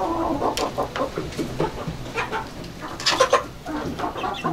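Chickens, roosters and chicks in a farmyard make a busy mix of clucks and short peeping calls, scattered at an irregular rhythm over light background noise.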